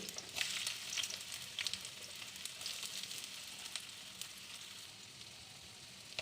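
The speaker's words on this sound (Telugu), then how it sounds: "ఆయిల్ వేడెక్కాక మనము ముందుగా కట్ చేసి పెట్టుకున్న ఆనియన్స్ వేసుకోవాలి" Chopped onions fry in hot oil in a kadai for a mushroom, pea and potato curry, a soft steady sizzle with scattered faint pops and crackles.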